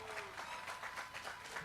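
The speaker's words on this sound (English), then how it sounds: "That deserves an applause. A big round of applause." Applause for a graduating high school class at a Class of 2021 commencement, steady crowd clapping heard from a distance, fairly faint and even throughout.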